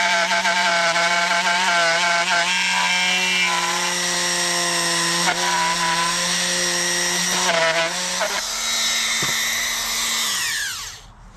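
A rotary cutter slices through a plastic chainsaw shroud, producing a loud, sustained high-pitched whining drone with strong tonal harmonics that wavers slightly in pitch and then winds down near the end, heard alone without talk.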